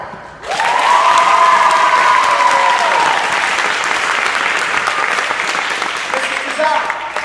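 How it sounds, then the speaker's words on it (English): An audience at a valedictorian graduation speech breaks into loud sustained applause with scattered cheers and a high whoop, a thick roar of clapping that swells quickly and holds for several seconds before easing slightly. "I want you to give the loudest applause you can possibly give after each name."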